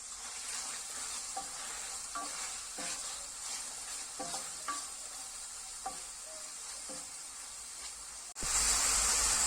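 Steady loud sizzling of meat and onions frying in a pot, with occasional stirring scrapes, then a sudden louder burst of hissing near the end.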